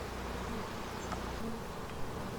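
Honeybees swarming over hive frames during a hive inspection, a dense steady buzzing hum, close and continuous, with no talk.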